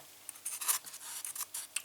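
Foam patch for a SkyHunter FPV model plane being cut, giving a string of close, soft scratchy slicing strokes in short irregular bursts, quiet and free of talk.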